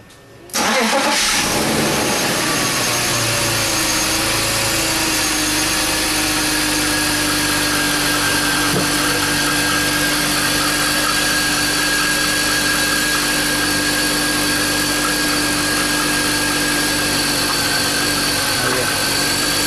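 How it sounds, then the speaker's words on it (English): A 2001 BMW E39 525 engine cranks and fires, then settles into a loud, steady idle that runs on evenly with a constant hum, with no voices. "I'm gonna get this car started now"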